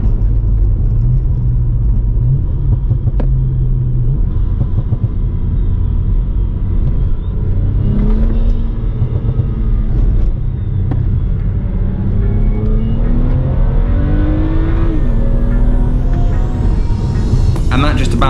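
A BMW E90 335i engine being taken down through the gears on open road, a steady loud rumble with rising and falling revs as each downshift lands, while someone talks over it throughout.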